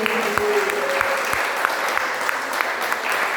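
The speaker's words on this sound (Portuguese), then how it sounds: "Toda a glória sobe aos céus com as nossas palmas para Jesus Cristo" A church congregation claps together at a worship service in steady, dense applause that holds throughout without a break, loud and even, with a few sharper claps standing out near the front.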